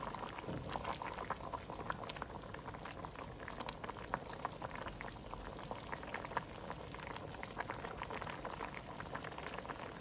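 Jamaican oxtail stew simmers in gravy with a steady low bubbling and faint popping crackle, continuous and quiet throughout.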